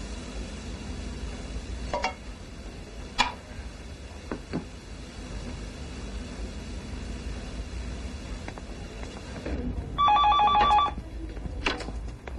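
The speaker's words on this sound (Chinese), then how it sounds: "妈来电话了。" A telephone rings with a short electronic trill burst, heard once clearly against a steady room hiss with a few faint knocks, in a 1996 Chinese film drama setting; no one speaks.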